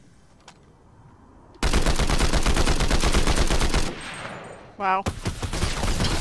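Rapid automatic gunfire in Fortnite, a loud, steady stream of shots lasting about two seconds, then a short pause and another burst, with a voice speaking briefly near the start.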